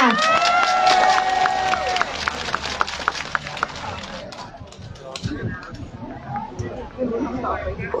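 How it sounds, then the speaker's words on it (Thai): A crowd at an outdoor political memorial rally at Bangkok's Khok Wua intersection cheers loudly, with whistles or horn-like tones over the noise, then settles into scattered claps and murmuring chatter while people talk. "ขอเสียงปรบมือต้อนรับ"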